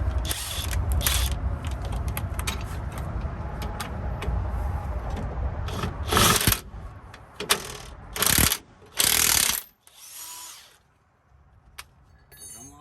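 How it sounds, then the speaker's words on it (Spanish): Mechanical whirring and ratcheting from a power drill fastening a rear shock absorber nut on a Toyota Tacoma, running in several bursts with short pauses, the last few loud and close, followed by quieter handling noises. "Lo mismo, usamos el taladro."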